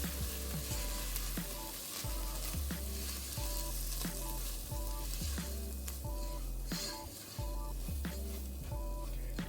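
Spices fry and sizzle in a pan for a lentil curry, a dense continuous crackle broken by regular scraping knocks of a spoon stirring, close up with no voices.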